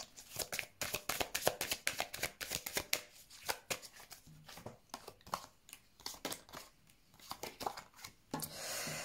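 Tarot cards being shuffled and laid out: a rapid series of crisp riffling flicks and slaps, close and fairly quiet, ending with a brief soft sliding rub as cards are placed, with no talking.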